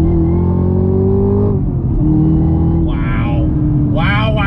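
A Chevrolet Camaro ZL1 1LE engine revs hard and climbs in pitch under throttle, loud and close, with a brief drop as it shifts before rising again.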